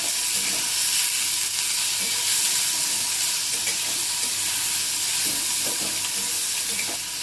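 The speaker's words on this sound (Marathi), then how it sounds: "त्यामध्ये टोमॅटो घातले आणि टोमॅटो पण आपण परतून घेऊया।" Onion and tomatoes sauté in a hot pan over high flame, giving a loud continuous sizzle and hiss with faint stirring scrapes throughout and no talking.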